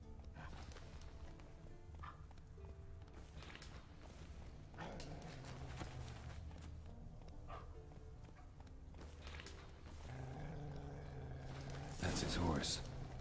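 Horse hooves thud in The Witcher 3: Wild Hunt, moderately close and irregular, with a voice and game ambience around them.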